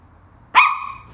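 Single sharp dog bark, close and loud, rising out of near silence and trailing off quickly.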